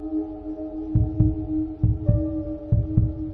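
Heartbeat sound effect: three pairs of dull lub-dub thumps at a slow, steady pace over a sustained low droning hum, with no talking.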